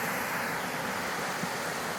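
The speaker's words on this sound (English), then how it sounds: "Waterfall." A waterfall on an island beside a dark, tannin-stained harbor near old cannery ruins in Alaska, heard as a steady, faint rush of water with no voices.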